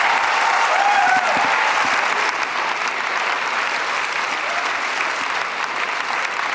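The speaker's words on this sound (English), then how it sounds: "Please do give them another round of applause" Sustained audience applause fills a ballet competition gala at the Prix de Lausanne 2023, a dense, steady wash of many hands clapping from start to finish with no voices standing out.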